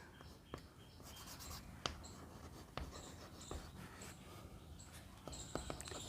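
Chalk or marker scratches and taps across a board during a chemistry lesson, a steady run of short strokes with faint rubbing and a few sharper knocks, heard close with soft background noise.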